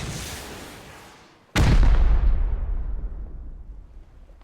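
A rocket slams into a boat in the Rust video game: a rushing hiss builds, then one sudden loud, close boom bursts out and rolls away in a long, rumbling decay.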